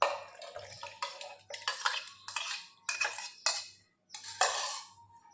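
Overnight-soaked dates and nuts being moved into a mixing bowl, with a series of close clinks, taps and scrapes of utensil on bowl arriving in uneven bursts over a low background hum.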